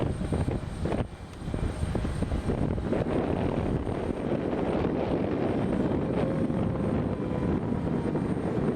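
American Airlines Flight 4944, an airliner arriving from Phoenix, roars as it comes in to the airport: a steady, loud, broadband engine rumble that holds nearly unchanged throughout.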